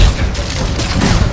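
Heavy, loud grenade explosion rumble from the shooter game Gears of War, a dense low boom with rolling debris filling the short stretch without any talk.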